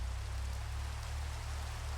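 Rain falls in the Minecraft video game as a steady, soft hiss of droplets under a low continuous hum, alone and unchanging throughout.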